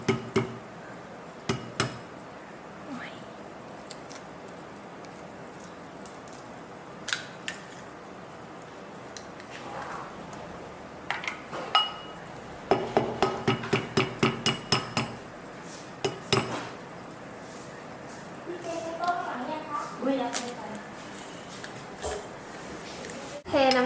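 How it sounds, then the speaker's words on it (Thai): Duck eggs are cracked into a bowl while making Thai custard, sharp clicks and taps of shell against the bowl coming in scattered bursts, with a fast run of knocks midway and clinking dishes, close and clear. "ขั้นตอนในการทำสังขยา คือ ตอกไข่ใส่ชาม"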